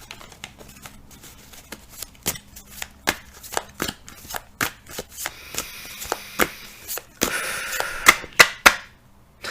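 Tarot cards being shuffled by hand close up, a series of sharp papery riffles and taps in an uneven rhythm that grow denser and louder toward the end, with no talk.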